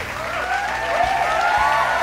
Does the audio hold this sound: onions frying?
no